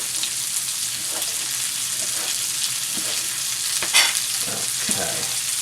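A wooden spoon stirs frittata in a non-stick skillet, giving a steady sizzle of frying with soft scraping strokes throughout, close and continuous, no talk.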